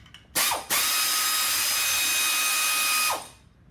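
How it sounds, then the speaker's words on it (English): A power tool whirs loudly and steadily for about three seconds at close range, after a short initial burst, while a pedestal top is being taken off; no voices. "the first thing to do would be to take the top off. This is a 14mm hand wrench, open end, obviously"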